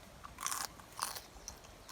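Crisp bites into a fresh, edible pea pod from a homegrown garden give a few short crunches near the microphone, separate bursts spaced about half a second apart over quiet background.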